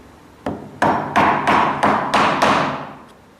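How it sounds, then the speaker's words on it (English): A chisel driven into timber to cut a housing joint for a pencil case, struck about six times in a steady rhythm, each blow a sharp close knock with a short ringing decay. "I'm going to roll the chisel over and go through the other side"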